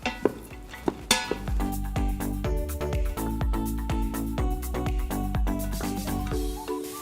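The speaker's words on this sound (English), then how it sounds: "we're just gonna mix this around a bit, saute until the vegetables are a little bit soft" Thinly sliced onion and vegetables sautéing for Philly cheesesteak, with a utensil scraping and tapping steadily against the pan in an even rhythm over a constant background sizzle.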